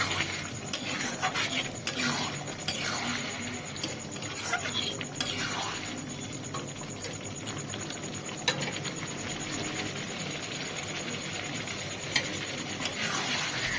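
A spoon stirring spiced potato curry (alur dom) with a little water in a pan, giving soft wet patter and a quiet sizzle, marked by occasional clinks of metal utensil against the pot.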